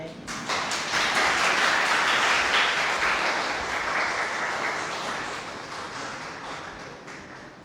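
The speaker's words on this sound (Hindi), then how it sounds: "जोरदार तालियों से" Audience applause follows the introduction of a speaker at a book-talk event, a dense, steady burst of clapping that swells quickly, holds for several seconds and gradually tapers off without speech over it.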